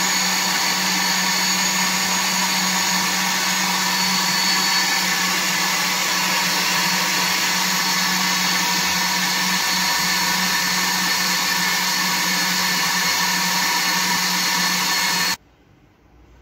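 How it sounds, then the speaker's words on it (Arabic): An electric blender runs steadily, whirring loud and continuous as it mixes crepe batter ingredients, with no talk over it, then cuts off abruptly near the end. "هنا غادي نطربو هاد العناصر ديالنا كاملة"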